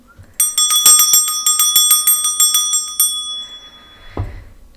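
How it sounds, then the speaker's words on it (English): A small hand bell rings about a dozen quick, bright strikes in a close, clear run that gradually softens, then stops and leaves a fading ring followed by a low thump. "I'm going to start by clearing the energy with my bell."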